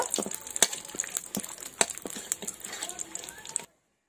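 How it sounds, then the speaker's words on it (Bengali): Whole garam masala (cinnamon, cardamom, cloves) and two bay leaves fry lightly in hot oil, giving close, irregular crackles and sharp pops before cutting off abruptly into silence. "গোটা গরম মশলা, তেজপাতাটা আমি হালকা ভেজে নেব।"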